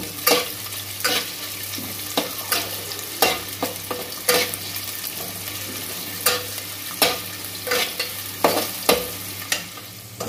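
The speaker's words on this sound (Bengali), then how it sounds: "সর্ষে তেল আমি গরম করে নিয়েছি আগে এবং এখন আমি পেঁয়াজটাকে ভালো করে ভেজে নেব" Onion fries in hot mustard oil for mutton tehari, a continuous close sizzle broken by repeated scraping stirs of a spatula at an uneven rhythm, with a low hum underneath.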